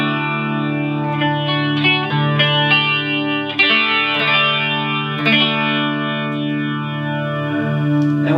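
A clean electric guitar played through a Marshall MG15HCFX amp with chorus set about halfway gives sustained, shimmering chords. Strums recur steadily and the sound is loud and close, with no talking.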